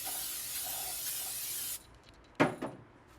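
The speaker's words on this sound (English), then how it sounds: "rotors, you want to spray them down" Brake cleaner sprays from an aerosol can onto new front brake rotors for a 2003 Honda Accord, one long loud hiss that stops abruptly, followed by a couple of short bursts, close up.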